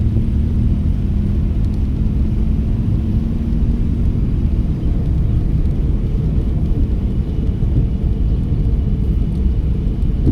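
A learner driver's car hums along with a constant, loud low-pitched engine and road rumble, unbroken and even throughout, with no voices.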